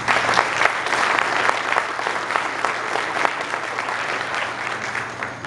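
A crowd at a Brigada Militar ceremony marking 100 years of the 1924 Revolution applauds the honorees, with sustained, dense clapping from many hands that tapers slightly at the end and no voices.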